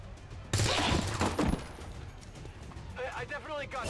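Gunfire in the tactical strategy game XCOM 2, a burst of rapid shots followed by a fading rumble and faint in-game effects, fairly quiet overall.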